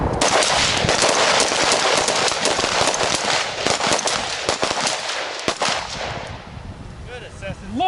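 Rifle fire at close range with a loud muzzle device: a dense run of sharp, booming shots crowded together for several seconds, then breaking off into quieter bursts and scattered outdoor noise.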